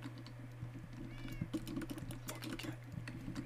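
A cat meows in the Minecraft video game, a few short calls set over a steady electronic hum with keyboard typing clicks throughout.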